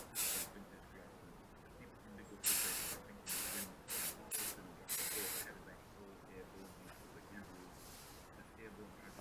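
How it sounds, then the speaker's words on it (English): A spray gun lays base coat on a Citroën 2CV on a warm afternoon, giving close hissing bursts of varying length in a stop-start rhythm, with quieter gaps in between. "I'm just going to crack on and start putting some paint down"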